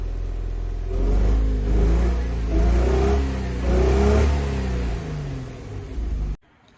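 An Infiniti FX35 engine idles with an uneven, lumpy rumble from misfiring that rises and falls in pulses, then cuts off abruptly near the end.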